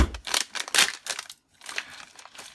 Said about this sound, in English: I'm just going to take it out of the package and show you.